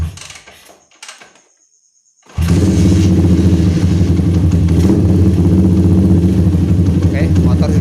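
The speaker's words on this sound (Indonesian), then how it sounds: "kita coba engkol untuk motornya ya" A couple of kicks and clunks, a brief pause, then a GL Pro motorcycle engine catches on the kick-starter and idles loudly and steadily up close.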